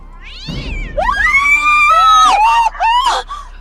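A cat lets out loud, drawn-out meows that rise into a screeching caterwaul, several wavering cries in a row, close and harsh, with a thud just before the first cry, apparently in a car-hits-cat scene.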